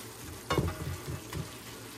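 Onion sizzling softly in a pan while being cooked for beefsteak, a faint steady frying hiss with a couple of louder stir scrapes, close and quiet with no talking.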